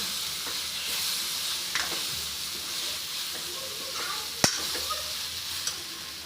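A spoon scrapes and stirs through bitter gourd curry in a hot pan after chili powder and coriander powder go in. Soft clinks and scrapes sound over a steady sizzling hiss, with one sharp tap standing out.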